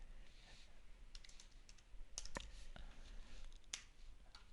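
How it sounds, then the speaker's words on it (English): Keys on a computer keyboard clicking as a name is typed into a field, a quiet scattered run of taps with a few sharper strokes against a faint room hiss. "typing a name"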